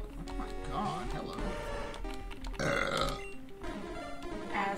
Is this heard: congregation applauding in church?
no